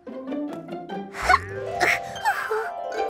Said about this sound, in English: No more sneezing.